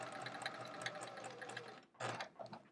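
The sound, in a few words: sewing machine stitching a quilt block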